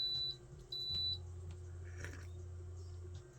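Two sharp, high electronic beeps sound close by in quick succession, followed by a low steady hum.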